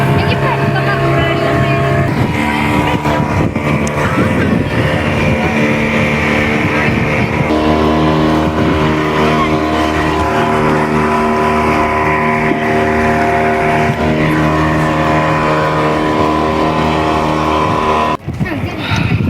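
Motorboat engine droning steadily while heading out to a scuba diving boat off Lakshadweep, a loud, continuous hum with wind and water noise throughout and a brief dip near the end.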